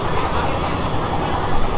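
An AC local train on the Sealdah to Ranaghat line running at high speed, a dense continuous rumble and rolling rail roar heard from on board, with a voice talking over it.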